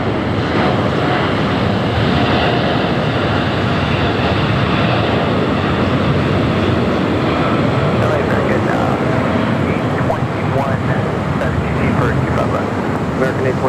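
A heavy airliner on a runway at Los Angeles International Airport, bound for Tokyo Haneda, gives a steady, loud, broadband jet engine roar that holds for the whole stretch with no clear rise or fall.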